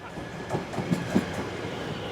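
A train runs along the railway lines at Bethnal Green Station, a steady rumbling roll with a few soft rhythmic wheel clacks, heard close and without talk.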